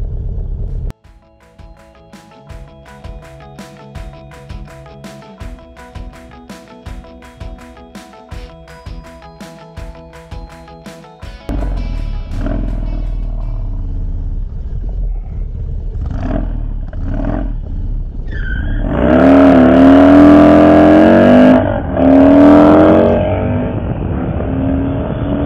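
A Harley-Davidson Dyna engine tuned with a Dynojet Power Vision, heard first as a choppy, rhythmic idle and then as a loud, sustained roar that swells into strong revving blips toward the end, close by.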